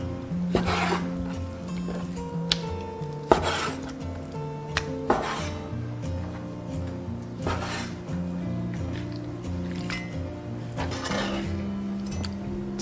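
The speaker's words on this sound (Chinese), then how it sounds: "接着再切成小块备用。" Knife chopping a large squid into small pieces on a cutting board, several sharp taps at uneven intervals, close, with faint kitchen clatter and background music.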